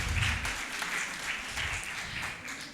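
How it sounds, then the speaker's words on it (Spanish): A church congregation applauds the women on Women's Day, a faint, distant wash of continuous clapping. "van un aplauso a las mujeres hoy"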